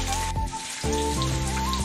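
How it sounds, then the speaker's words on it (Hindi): Heavy afternoon rain falling outdoors near a school, a dense steady hiss of rainfall with a persistent tonal hum running through it. "और ये देखो बारिश आ रहा है दोस्तों"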